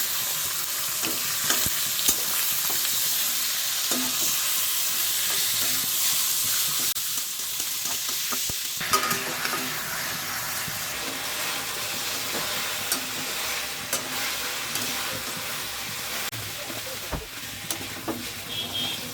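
Mutton pieces fry with browned onions in a pan for a Bengali goat curry, a steady loud sizzle running throughout, broken by frequent scraping and clattering stirs of a spoon against the pan.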